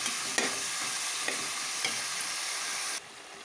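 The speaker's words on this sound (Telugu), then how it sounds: "మటన్లో ఉన్న వాటర్ అంతా ఆయిల్ అన్నీ కలిపి వేగుతున్నాను" Mutton pieces frying in oil together with their released water for a simple mutton curry, a steady hissing sizzle with a few faint utensil taps, cutting off abruptly near the end.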